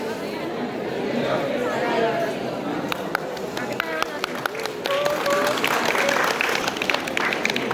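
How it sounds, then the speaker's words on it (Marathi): Students at a college annual sports event outdoors clap in scattered bursts that grow denser, mixed with background chatter and crowd voices. "टाळ्या वाजवा"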